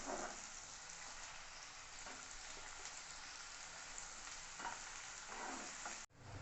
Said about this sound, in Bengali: পুরো পেঁয়াজ কুচিটা দিয়ে আমি লাল হওয়া অবধি এটাকে ভাজবো